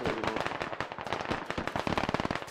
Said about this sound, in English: And now they're taking INS frags from below them.